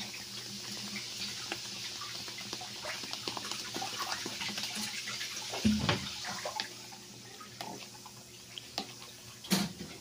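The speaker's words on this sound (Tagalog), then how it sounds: "Tapos lagyan na natin ng Sprite" Sprite soda poured onto chicken seasoned with garlic and calamansi for roast chicken, a faint liquid trickle and fizzy patter with scattered drips and clinks, close and quiet.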